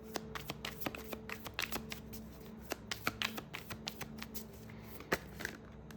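Tarot cards are shuffled close by in soft repeated riffles and taps, with a quick, uneven rhythm and brief pauses, and no voice over them.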